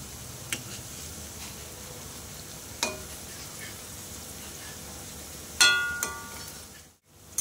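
Coconut fritters frying in oil, a quiet steady sizzle under a few sharp utensil clinks and scrapes, with a louder clatter near the end before the sound cuts out briefly.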